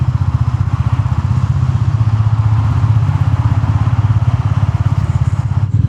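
A Royal Enfield Meteor 350 single-cylinder motorcycle rolls slowly through Berlin streets, its engine a steady, close, even thumping throb with a rapid regular pulse and no pauses.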